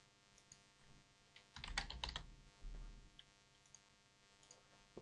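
Computer mouse clicking while editing a module in a website admin panel, a short quiet cluster of clicks near the middle with a couple more afterward and no talk.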